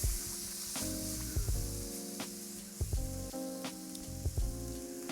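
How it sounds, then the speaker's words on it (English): A steak sears in a hot pan, its fat cap rendering with a loud, continuous crackling sizzle and occasional pops, over a steady tonal musical background and no speech. "I like to render that fat cap first. Just give it a good sear on here."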